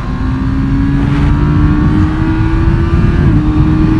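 A Kawasaki ZX10R motorcycle on a racetrack, its engine held in a loud, sustained high-revving drone whose pitch climbs steadily as it accelerates, close and continuous.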